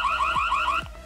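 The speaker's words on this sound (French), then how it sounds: "Son de l'alarme, arrêt, donc on va pouvoir l'activer." A Reolink Argus 2 security camera sounds its electronic alarm siren, a loud, close, rapidly repeating two-tone warble with sharp descending chirps, alone without voices.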